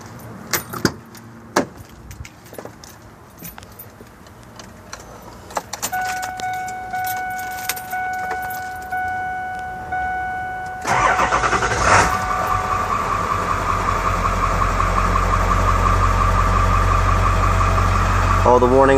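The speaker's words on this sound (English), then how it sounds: "let me fire it up for you real quick so you can hear it run" Keys jingle, then a Ford F-250 pickup truck engine cranks and catches partway through and settles into a steady, rumbling idle.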